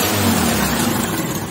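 A TVS Scooty Pep scooter engine runs with a steady low idle hum and broadband noise after starting. The scooter has an open clutch and its rear wheel is not turning. The sound is brief, fairly close and continuous, with no talking.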